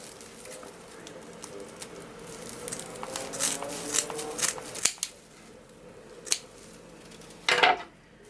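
Scissors snip through burlap deco mesh while a wreath is being made, a series of crisp close cuts and rustles of the coarse material, ending with a louder rustle near the end.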